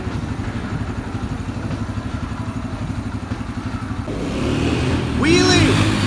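A manual Volkswagen Jetta on a test drive gives a steady, pulsing engine drone from inside the car. It swells as the car pulls away, and a voice speaks briefly near the end.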